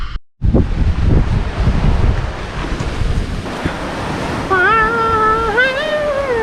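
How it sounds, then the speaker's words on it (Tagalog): Sea at Salagdong Beach, Siquijor, with a hiss of surf and heavy wind buffeting the microphone, then a warbling whistled tone rising and falling near the end. "Dito na po tayo sa Salagdong Beach. Ayan po, makikita niyo po yung dagat."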